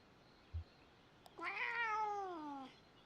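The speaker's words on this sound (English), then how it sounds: "Negative meow." A cat in the video game Kentucky Route Zero gives a single drawn-out meow that falls in pitch, preceded by a soft low thump and a faint click, in a quiet setting.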